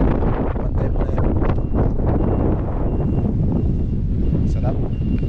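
Strong, cold mountain wind in Taiwan buffets the microphone in a steady low roar, with faint voices underneath.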